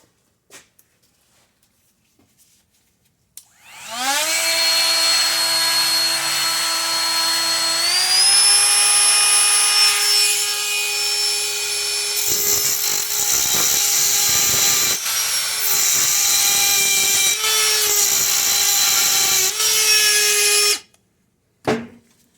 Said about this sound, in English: So I'm just gonna cut it sideways so I can